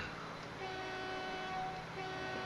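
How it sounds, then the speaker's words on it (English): Train riding along in the video game Transport Fever, a steady rumbling roll with faint sustained horn-like tones, continuous and fairly quiet, no talk. "Let's just hop on this train real quick"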